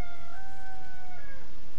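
A rooster crows once in the video game Little Big Workshop, a loud drawn-out cock-a-doodle-doo whose tone holds and then trails off over a constant background.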